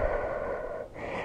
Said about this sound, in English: Inhale and exhale deeply.